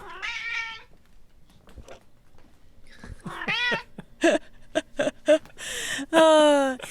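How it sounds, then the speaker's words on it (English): A companion cat meows in several short, bright calls, the loudest near the end, with soft indistinct sounds between them and no talking over it. "that is my wonderful companion cat who has been here the entire way for the series"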